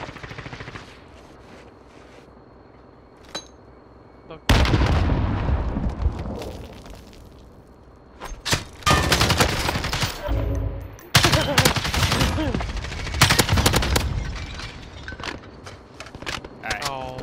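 Bursts of automatic gunfire in Call of Duty Warzone, the rapid shots and loud cracks starting abruptly after a quiet spell and then coming in dense clusters. Players talk over the firing.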